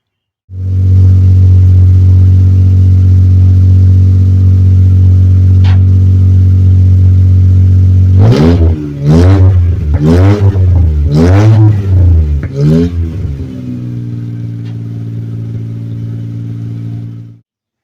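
A Geo Metro engine with a cut-off exhaust idles loudly with a deep, steady rumble, then revs sharply several times in quick succession before settling back to a throaty idle.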